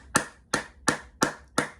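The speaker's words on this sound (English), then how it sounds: "I clap for myself all the time." A man clapping his own hands, five sharp, evenly spaced claps at close range with no other sound.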